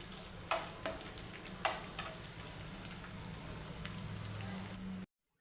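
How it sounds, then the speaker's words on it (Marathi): Edible gum fries in hot ghee, spread as a soft, continuous crackling sizzle with a few sharper ticks and pops as pieces drop in, close and quiet, ending abruptly. "तूप गरम झालं, थोडं थोडं करून डिंक टाकूया"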